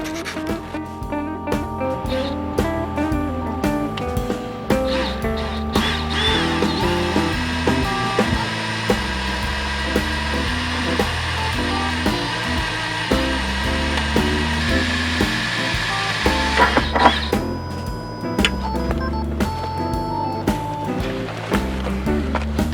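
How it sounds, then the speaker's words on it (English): A power drill whirs steadily for a long stretch at a sustained high pitch while drilling holes to install a truck step, then stops, with clattering and handling noises before and after. "got the holes drilled"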